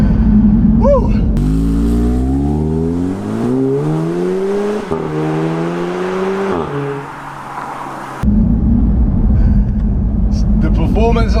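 A 2016 Audi S3 accelerates hard through the gears, the engine note rising in pitch with each shift, loud and close, with excited talk before and after.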